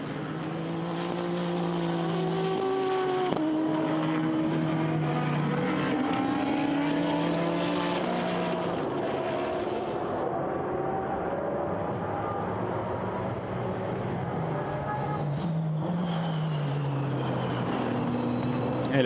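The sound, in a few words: GT race cars racing at Silverstone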